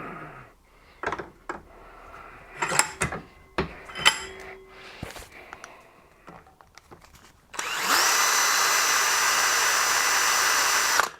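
A drill bores into a wiper linkage stud clamped in a vise, preceded by scattered clanks and handling knocks, then a loud, steady high-pitched whine of the drill running for several seconds, close up.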